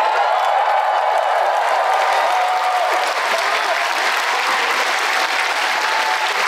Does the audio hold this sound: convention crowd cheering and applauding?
yes